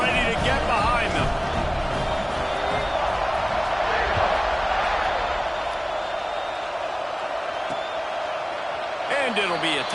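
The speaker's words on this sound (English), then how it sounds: "this crowd now ready to get behind them" Stadium crowd in a college football video game roars and cheers at a kickoff, a loud continuous wash of voices with a commentator talking over it.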